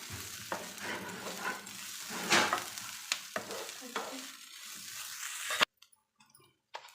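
Vegetables sautéing with a little tamarind in a pan, a close sizzle with scraping spoon strokes and stirring for several seconds before it stops abruptly into near silence.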